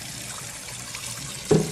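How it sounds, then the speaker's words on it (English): Rice water poured off washed brown rice in a kitchen, a soft steady trickle and splash of liquid running throughout, with a brief louder gush near the end. "then you pour that rice water off"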